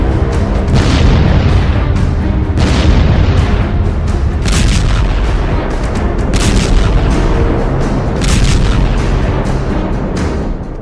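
Missile blasts in news war footage, heard as loud, deep rumbling booms in repeated bursts over a continuous roaring low-end wash, with no speech.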